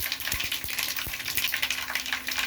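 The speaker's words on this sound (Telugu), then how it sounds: "ఇప్పుడు ఆయిల్ వేడెక్కింది కదా, పోపు గింజలు చిట్టపట్ట వంటని కొంచెం 1 స్పూన్ జీలకర్ర, 2 ఎండుమిర్చి" Cumin seeds and two dried red chillies sizzle in hot oil as a tempering for a bitter gourd curry. A continuous close hiss runs throughout, broken by a few sharp knocks of a spoon.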